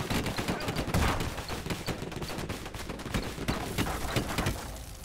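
Dense gunfire and cannon bursts in the steampunk airship battle game Airships: Conquer the Skies, a continuous loud barrage of overlapping shots with no pauses and no talking.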